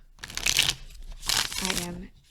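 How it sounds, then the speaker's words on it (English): Cards being shuffled in quick riffling bursts, close up, with a voice briefly speaking over the second burst. "I just shuffled without really thinking twice."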